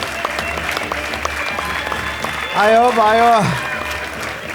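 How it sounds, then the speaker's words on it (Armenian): A studio audience at an Armenian comedy show applauds loudly for host and producer Vahe, a dense, sustained clapping that swells midway while a voice speaks briefly over it. "մի հատ բարձր ծափարեք Վահեին։"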